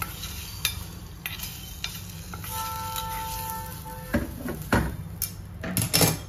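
A spoon stirs spiced tempering into cold buttermilk in a bowl, with soft swishing and a few sharper clinks and taps against the vessel, close and quiet, with a faint sizzle and no talking.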